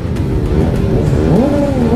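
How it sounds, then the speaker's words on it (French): Car tire burnout at a Lyon By Night event, a loud engine revving with a rising, wavering pitch over a harsh roar, close and continuous for two seconds. "On l'a fumé le pneu!"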